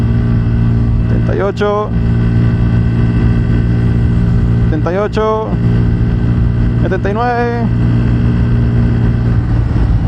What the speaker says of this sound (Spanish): Esta moto sube perfectamente 80 por esta cuesta